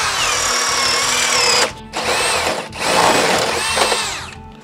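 A Ridgid high-torque hammer drill with a 1-inch speed bit bores through 2x lumber, whining loudly with two short pauses where the bit binds, then catches and drives on.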